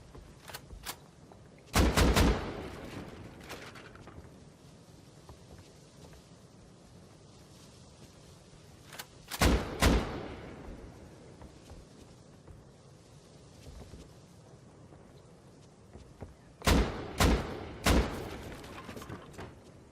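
Rockets fire and explode in a Rust base fight: three clusters of sharp, loud blasts spaced several seconds apart, each with a short ringing tail, over quiet ambience.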